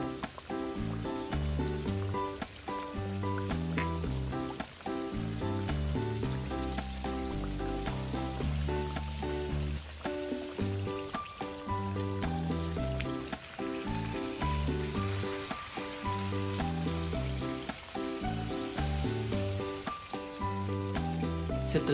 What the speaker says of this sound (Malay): Biarkan ikan masak sehingga garing selama lebih kurang 20 minit.